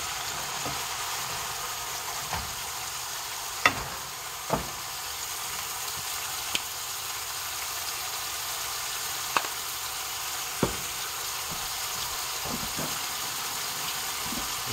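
Chopped ground beef frying in a pan for a homemade Hamburger Helper-style dish: a steady, soft sizzle throughout, broken by occasional sharp clicks of a utensil stirring against the pan.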